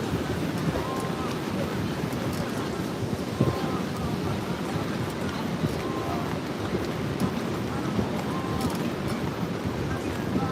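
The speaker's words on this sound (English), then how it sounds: "I'm just glad the wind's not picking up the sand." Wind blowing on a beach, a steady rushing buffet against the microphone with a constant wash of noise, while people talk faintly in the background.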